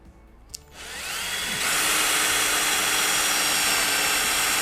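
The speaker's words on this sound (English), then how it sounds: "pretty easy to drill through fiberglass" A power drill starts up and bores steadily through a new fiberglass Jeep hardtop, a loud continuous high whine with a gritty grinding edge, close by.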